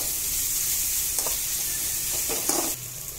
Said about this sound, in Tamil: காஞ்ச மிளகாவும் இப்போ ஆட் பண்ணி நல்லா ஃப்ரை